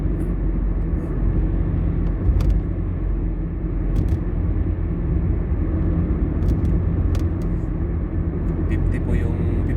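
A car cruising at about 50 km per hour on a quiet road with little traffic, giving a steady low road and engine rumble throughout, with a few faint higher clicks.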